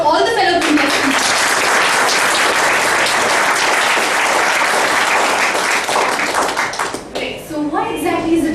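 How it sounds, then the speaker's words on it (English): An audience at a debate competition applauds the contestants, steady dense clapping that holds loud for about six seconds before fading out, followed by a voice speaking at the end. "let's give a big round of applause for all the fellow contestants"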